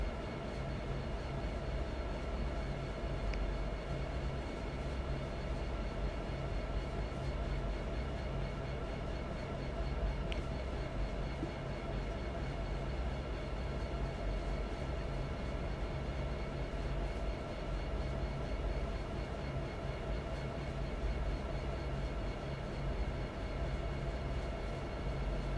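BNSF GP60M diesel locomotive in a train simulator game, slowing down: a steady, continuous engine drone and rail rumble with no distinct events, with no talking.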